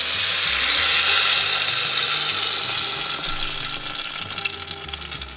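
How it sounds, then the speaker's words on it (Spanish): Blended salsa is poured into hot oil in a pan, erupting into a loud, bright sizzle that is close and intense at first and then gradually settles to a softer bubbling crackle. "Vertemos la salsa que acabamos de licuar."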